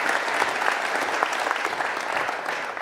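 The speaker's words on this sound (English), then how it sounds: "So huge round of applause for you," Dense, sustained audience applause at a business school symposium, steady and fairly loud throughout, a continuous wash of many hands clapping with no break.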